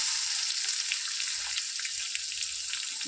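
Steady, close sizzling of chopped onions and green chillies frying in a wok, a continuous hiss with faint scraping now and then and no voices.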